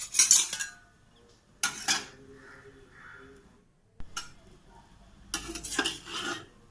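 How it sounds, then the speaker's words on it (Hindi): A ladle scrapes and clinks against a hot iron griddle while a maize roti is flipped. Several short metallic bursts are separated by quiet gaps, recorded close but soft. "रोटी को हम पलटेंगे करछी से।"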